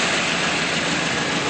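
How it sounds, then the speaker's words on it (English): A 1980 Chevrolet Corvette engine idles smoothly and steadily close by, an even mechanical hum with no voices. "Smooth running engine"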